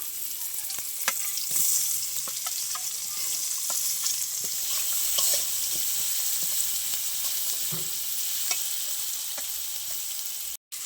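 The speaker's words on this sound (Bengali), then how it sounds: "আমি রসুনটা একটু লাল লাল করে ভেজে নেব ভাজা হয়ে গেছে এবার দিয়ে দেবো পেঁয়াজ কুচি" Chopped onions dropped into a pan with garlic already fried reddish, sizzling and frying steadily at close range with occasional stirring clicks, no talk.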